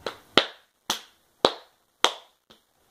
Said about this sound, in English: Those are all really fucking good claps.